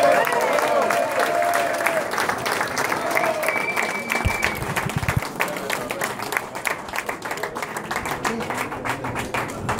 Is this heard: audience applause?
yes